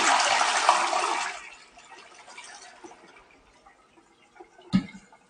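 A one-piece rimless ceramic toilet flushed at the push of a button, a loud rushing gush that fades within a couple of seconds into quiet trickling and refilling, ending in a sharp click.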